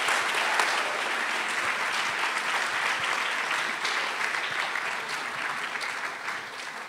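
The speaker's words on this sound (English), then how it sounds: "Let's give all our speakers one more round of applause" A large audience at an evening speaker event in New York applauds with sustained, dense clapping that stays loud throughout and eases slightly toward the end.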